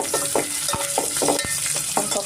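Cloves and green chillies frying in oil for mutton biryani, loud close sizzling broken by rhythmic spoon scrapes and clinks against the pan, about eight strokes in quick succession.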